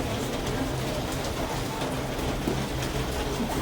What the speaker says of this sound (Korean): 이거 비가 더 많이 오네.